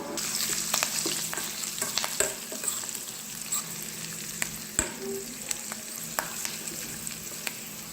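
Fenugreek and cumin powder are stirred into raw tamarind pickle in a pan over gentle sizzling, with irregular scraping clicks and taps from the spoon. No one speaks.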